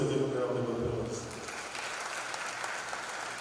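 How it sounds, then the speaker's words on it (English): A crowd at a live-streamed CrimeWatch community event gives a round of applause, moderately distant clapping that starts fuller and thins slightly, with a voice heard underneath at the start. "You could also give him a round of applause."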